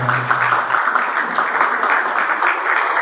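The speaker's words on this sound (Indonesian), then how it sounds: "boleh tepuk tangan buat ibu" Audience applause for a mother honoured at an event, steady dense clapping filling the whole stretch, with a brief tonal voice fading at the very start.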